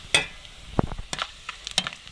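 Whole spices and red chilies fry in ghee for a tempering, giving soft sizzling and several sharp clinks of stirring close by, in short scattered bursts.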